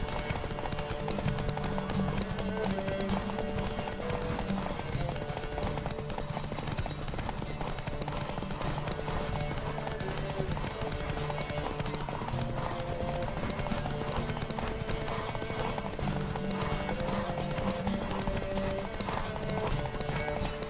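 A horse gallops in a race in the video game The Witcher 3, with rapid, continuous clip-clop hoofbeats running steadily throughout at an even, close volume, and occasional faint voices beneath.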